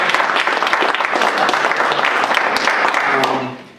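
A press conference audience at the 2018 Beast of the East gives a loud, close round of applause, dense steady clapping that carries evenly for several seconds and then quickly fades out.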